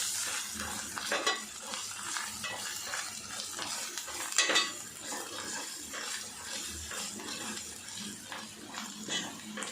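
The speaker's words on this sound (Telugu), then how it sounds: "మీడియం ఫ్లేమ్లో పెట్టుకొని మంచిగా కలుపుకోవాలి." A spoon stirs curry base with curry leaves in a pan on medium flame for chicken curry. Steady sizzling frying runs under repeated scraping and clinks of the utensil against the pan, close and clear with no talking.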